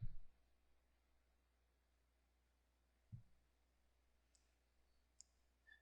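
A couple of soft mouse clicks while publishing a blog post, faint and isolated against near silence, with a tiny tick near the start and another halfway through.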